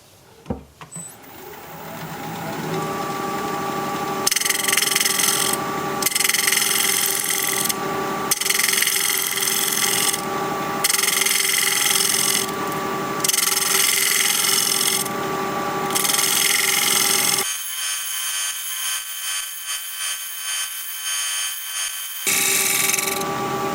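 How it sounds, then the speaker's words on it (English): A gouge bevels the edge of a spinning wood piece on a lathe, giving a steady, loud scraping hum broken by several short pauses, with a brighter, hissier cut near the end. "Maybe I'll bevel this edge before we go any further while I still have a little bit of support."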